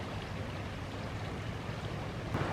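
A high, rushing creek flows steadily, a constant soft broadband wash of water heard alone at a modest level, with a small bump of noise near the end.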